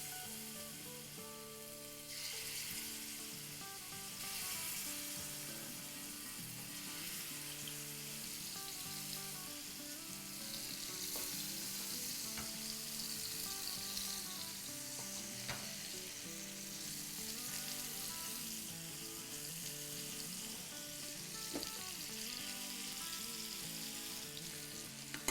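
Chicken pieces sizzle steadily in a pan over medium heat, a dense continuous frying hiss that holds at an even level with a few faint pops and crackles throughout.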